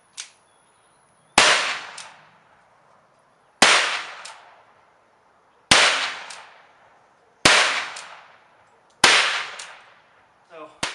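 Uberti 1851 Navy black powder revolver fired six times outdoors, a faint first pop followed by five loud sharp cracks spaced about two seconds apart, each trailing off in a short echo, with a brief rattle at the end.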